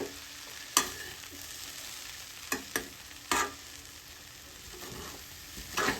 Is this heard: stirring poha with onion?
yes